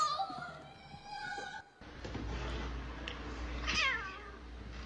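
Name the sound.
cat meowing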